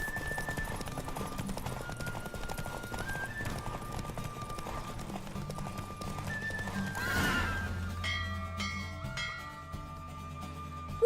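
A horse gallops in The Witcher 3 video game, with rapid rhythmic hoofbeats, a whinny, and a game music score running underneath throughout.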